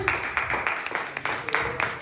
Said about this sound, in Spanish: dale un aplauso a Dios esta hermosa noche